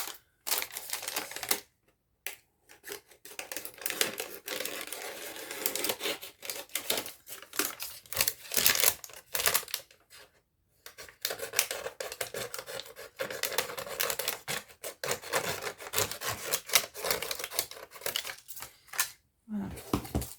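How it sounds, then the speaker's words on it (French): Paper being cut by hand with scissors for a junk journal, close and quiet, with irregular bursts of crisp snipping and rustling broken by short pauses. "Je vais découper à la main."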